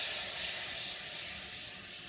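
Garlic frying in butter in a pan, a steady, close, bright sizzling hiss that holds evenly with no talking.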